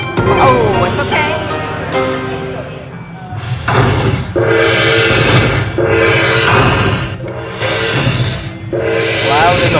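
Loud casino slot machine bonus round at the Chicken Ranch Casino, with bursts of jingles, chimes and electronic effects repeating in waves while people react and talk excitedly over the machine.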